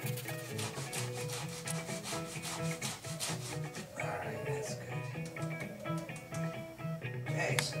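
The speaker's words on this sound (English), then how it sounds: "now I'm going to do a little grating action. I like to use this side of the grater for this part." Beets are grated by hand on the coarse side of a box grater, a steady rough rasping stroke repeated continuously and loudly at close range, with faint background music underneath.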